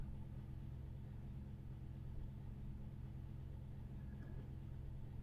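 Aircraft engine spooling up during an engine start in the Prepar3D v5 flight simulator, heard as a steady, loud low rumble that holds evenly throughout with no voices.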